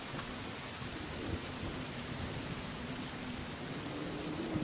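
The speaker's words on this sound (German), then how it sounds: "Gewitter." A thunderstorm in the video game The Forest: dense, steady rain hisses over a low continuous rumble of thunder, loud and enveloping.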